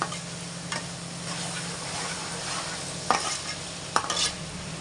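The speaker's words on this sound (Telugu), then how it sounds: "అల్లం పేస్ట్ బాగా వేయించుకోవాలండి" Ginger paste frying in hot oil for a fish curry, a steady close sizzle with a few sharp scrapes of a spoon stirring through the pan.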